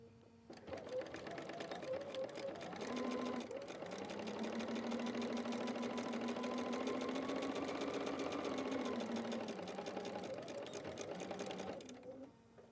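A sewing machine stitches close to the edge of fabric while piecing a small quilt, running as one steady, fairly loud whir for about eleven seconds that speeds up and slows down, with brief stops at the start and end.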